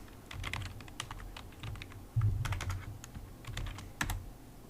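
Someone types on a computer keyboard while entering a name on a PC, producing quick, irregular key clicks at close range with brief pauses, steady and without talk.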